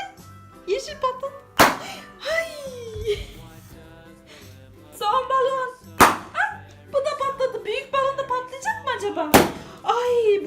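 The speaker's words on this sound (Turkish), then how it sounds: "Kırmızı balon da patladı" Several sharp, loud balloon pops burst out one at a time amid excited chatter and laughter from a child and an adult.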